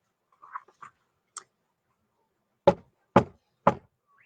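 Three firm knocks on a door, evenly spaced about half a second apart, loud and close, after a few faint softer taps, with no talking.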